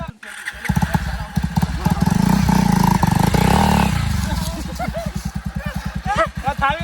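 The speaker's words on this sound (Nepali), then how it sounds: "ल यता आयो नि यसको बाइक" An off-road motorcycle engine revs and roars up close on rough, rocky ground, rising to a sustained loud drone before settling into a rough, pulsing idle, with voices talking over it.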